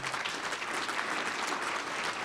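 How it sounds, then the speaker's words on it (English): An audience at an economic outlook and public policy summit applauds in a brief, even burst of many clapping hands, slightly distant and without speech. "I want people to applaud that because that is so vital."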